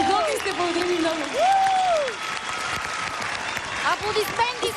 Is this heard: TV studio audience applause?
yes